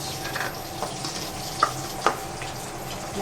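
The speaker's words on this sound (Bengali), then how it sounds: "এখানে মাছটা ভাজা হচ্ছে" Fish fries in oil with a steady, close sizzling hiss. Two brief clinks rise above it near the middle, and there is no talk.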